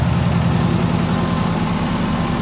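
Low, rumbling idle of a neglected 1980 Clark Bobcat 732 skid steer engine, running steadily and loud up close with an even, throbbing pulse and no voices.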